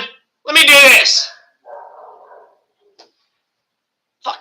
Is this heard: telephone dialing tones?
no